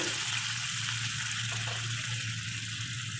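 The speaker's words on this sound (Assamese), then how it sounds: "এতিয়া মই ইয়াতে গৰম পানী দিম" Hot water pours into fish curry masala in a pan, giving a steady moderate rushing, bubbling wash under a low hum, continuous throughout.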